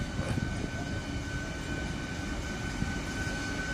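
A local electric train pulling out of a railway station, a steady low rumble with a faint high motor whine, moderately loud and continuous.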